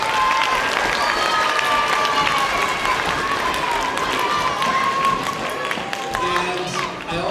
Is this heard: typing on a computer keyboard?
no